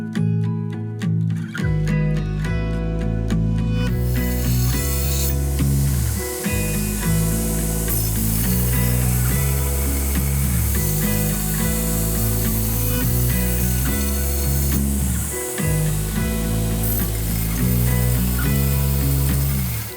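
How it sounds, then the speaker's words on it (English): A surface grinder works the flats of a large Damascus Bowie knife blade. A loud, continuous hissing grind with a ringing tonal hum swells and dips in regular passes about every five seconds as the table strokes back and forth. "To start though, let's go surface grind these flats."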